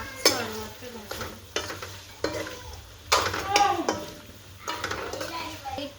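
Tomatoes cooking with mutton in a pan, a soft sizzle under repeated scraping and clinking stirs from a utensil against the pan, coming in irregular bursts.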